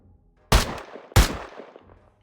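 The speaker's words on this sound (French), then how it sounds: "Tire-moi 2 balles, s'il te plaît." Two sharp gunshots in a video game, evenly spaced about half a second apart, each a loud close blast followed by a decaying tail, with faint background sound between them.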